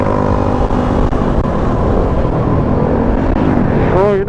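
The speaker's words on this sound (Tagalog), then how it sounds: "Pakel, lumalaban pa yung motor niya." Yamaha Mio scooter engine racing on a road toward Baguio, a steady loud motor drone that holds throughout, with a rising whine near the end as it revs or passes close.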